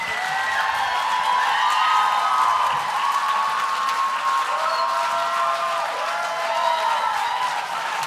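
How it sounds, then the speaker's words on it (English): Dense applause from an audience at a poetry slam, a steady wash of clapping with some cheering and faint voices underneath, sustained throughout at moderate loudness. "A round of applause to these 5"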